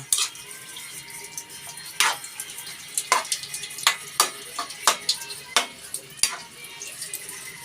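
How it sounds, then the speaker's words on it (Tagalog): A utensil scraping and clanking in a pan in steady intermittent strokes, over a soft background sizzle, while stirring ground meat with patola and sotanghon noodles. "At syempre, halo-haluin natin ulit."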